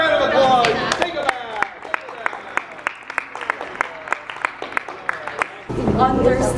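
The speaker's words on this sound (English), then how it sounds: "big round of applause" An audience claps after a Romeo and Juliet stage performance. The crowd's clapping is full at first, then thins to a few scattered, evenly spaced hand claps before a voice speaks.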